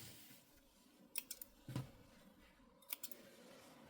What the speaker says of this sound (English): And what I'm going to do is just clip my threads.